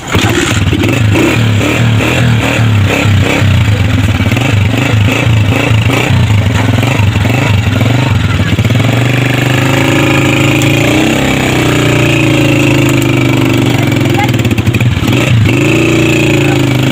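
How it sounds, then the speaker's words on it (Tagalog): A motorcycle engine runs loud and close throughout, with a rough, clattering idle that rises and falls as it is revved, drowning out any other sound. "Motor na to."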